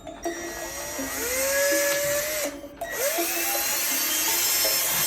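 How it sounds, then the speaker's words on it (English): A high-pitched power drill whines steadily, boring holes in the sides of plastic skulls, its pitch sliding up and down as it bites into the material, with a brief pause before starting again. "my next step is to take my skulls and drill holes in the side of them"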